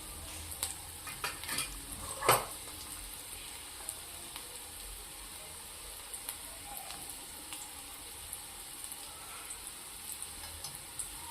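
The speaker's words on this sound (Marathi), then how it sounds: "मस्त भाजून घेतलेलं आहे सर्व कांदा मिरची वगैरे।" Chopped onion and green chillies sizzle softly in a pan, with occasional scrapes and clinks of a spoon stirring them and one brief louder knock partway through, and no voices.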